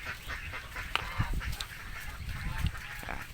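Domestic itik ducks, a layer flock in a farmyard, call in overlapping honking quacks with several louder bursts over a steady background of bird noise; no speech.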